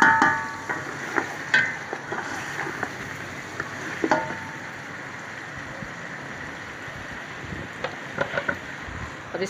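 Ginger frying in a pot for beef biryani, a soft continuous sizzle with intermittent scraping and tapping of a stirring spoon.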